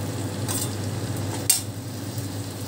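Chopped tomato drops into hot oil in a kadai with a soft sizzle and a sharp clink of a utensil midway, followed by faint scraping and stirring against the pan, fairly quiet and close.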